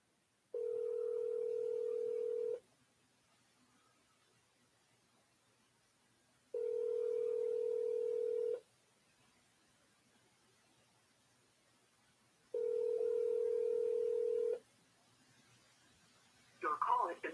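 A telephone call rings back through the line before going to voicemail, three long steady tones about two seconds each separated by equal silences, clear and isolated, followed by a brief burst of sound at the end.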